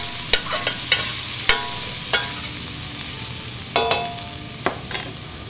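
Sliced garlic and onion frying in olive oil: a soft, steady sizzle close by, punctuated by light clicks and taps of a utensil stirring in the pan, with no voices.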